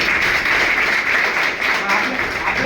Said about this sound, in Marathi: त्यांच्यासाठी आपण टाळ्या वाजवल्या.